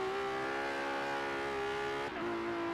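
Ferrari driven in Forza Horizon 3 on Xbox One, a steady high-revving engine drone with a brief dip and gear change near the end, loud and close with no talking.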